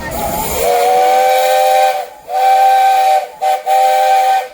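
At a steam show, a loud steam engine whistle blows a long harmonic tone after a hiss of steam, then sounds again in a long blast, a brief toot and another blast.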